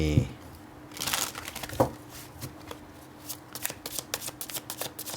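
Tarot cards shuffled by hand in a quick series of crisp riffles and soft papery rustles, close and fairly quiet, during a Thai-language reading.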